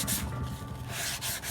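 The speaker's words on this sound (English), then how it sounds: "Doing my final sanding here with 220." Close, scratchy 220-grit sandpaper rubbing against a wooden stool in quick back-and-forth strokes, steady and fairly loud, with no talking.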